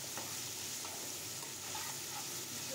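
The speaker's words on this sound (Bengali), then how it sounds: "আলুটাকে এবার নেড়ে চেড়ে পেঁয়াজ রসুনের সাথে ভালো করে ভেজে নিতে হবে।" Small potato pieces are stir-fried with onion and garlic in a pan, giving a steady moderate sizzle with a few light stirring scrapes and no talking.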